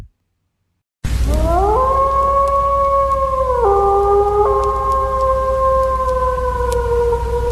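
A single wolf howls in one long, sustained, wavering note that slides in pitch and holds steady, loud and unaccompanied.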